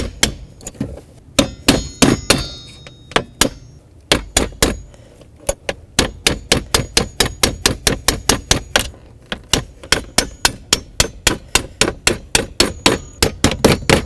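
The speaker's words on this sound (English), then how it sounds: "Use a little hammer, tap it in." A small hammer taps a replacement armrest cover into place on a 2002–06 Chevy Avalanche, giving a long series of sharp, close metallic knocks, sparse at first, then settling into a steady, fairly rapid rhythm.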